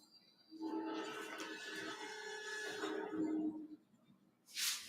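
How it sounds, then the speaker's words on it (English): A Norfolk Southern train rumbles past at close range, a steady loud roar with harmonic tones of engines, easing off near the end before a brief hiss. "Oh, I hear a train behind me."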